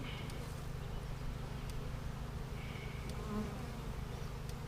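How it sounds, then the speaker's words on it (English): Dense, steady buzzing of many honey bees in a hive close by, a continuous droning hum that never lets up. "So more bees are hatching out."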